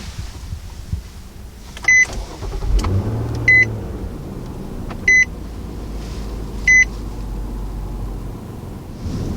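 A 2019 Nissan Murano starts by push button: a low engine rumble turns over and settles into a smooth idle while four evenly spaced electronic chimes sound clearly above it inside the cabin.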